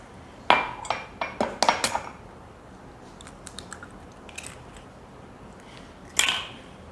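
Two eggs cracked into a bowl of cake-mix strawberry cookie batter: a cluster of sharp taps and clinks on the bowl's rim up close, a few softer knocks, then one more crisp crack near the end, with no talking.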